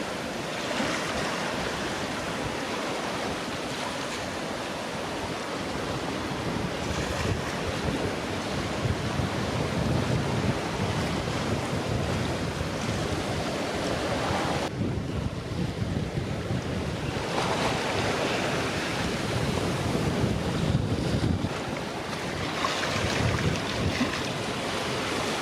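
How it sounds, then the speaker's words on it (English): Constant rush of ocean waves and heavy wind buffeting the microphone, a steady roaring wash with brief dips, as a sailboat surfs down waves through rough water at about 5.5 to 6 knots. "We are surfing down the waves"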